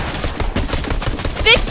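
Pump shotgun blasts in Fortnite, rapid loud reports over busy game noise in a short burst of gunfire.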